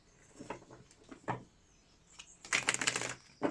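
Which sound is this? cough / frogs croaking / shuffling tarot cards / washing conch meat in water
shuffling tarot cards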